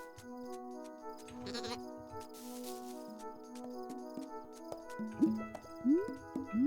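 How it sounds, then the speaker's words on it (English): Bleats from sheep in the video game Carto, one sounding early and a clear cluster near the end, set over gentle melodic game music with faint clip-clop-like ticks. "Find all the sheep? I mean, I did find all the sheep."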